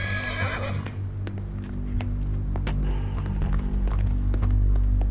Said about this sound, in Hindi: तुमने मिस्टर इल्मी का घोड़ा देखा?